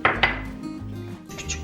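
Knife chopping food on a board for a Turkish chicken soup with vermicelli, two sharp close chops at the start followed by a couple of softer taps, with low kitchen hum underneath.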